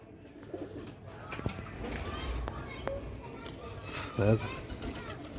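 Sialkoti black-faced pigeon chicks coo softly amid outdoor chatter, with children's voices and scattered knocks around them; a brief louder coo stands out near the end.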